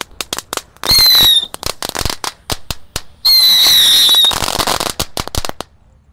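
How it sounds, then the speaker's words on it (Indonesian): A whole pack of tikusan firecrackers set off at once, rapid sharp pops firing in an irregular string, broken by two loud, long whistling screeches, then tailing off to scattered bangs near the mic. "Selanjutnya di sini ada tikusan, kita nyalakan satu bak sekaligus."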